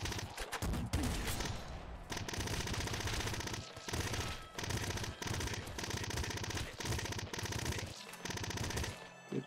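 Rapid weapon gunfire in the top-down shooter Nuclear Throne while the Blood Weapon ability is in use: dense, loud bursts of automatic shots with brief gaps, continuous through the whole stretch with no talk.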